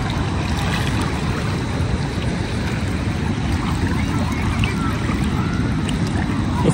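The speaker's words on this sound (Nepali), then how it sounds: "यहाँको गेटहरू चाहिँ अहिले खोलिदिनु भएको छ र पानी अलिकति बढी देखिया छ" Floodwater roars from the opened dam gates at Headban on the Triyuga Khola near Phattepur, a steady, loud, dense rushing wash that never lets up, with faint voices buried beneath the torrent.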